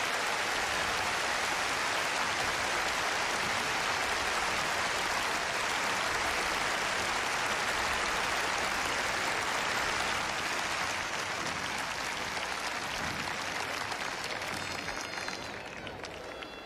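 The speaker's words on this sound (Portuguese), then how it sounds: "Glorifique ao Senhor com palmas." A large church congregation applauds in a long, dense, even roar of clapping that holds steady before easing off slightly at the end.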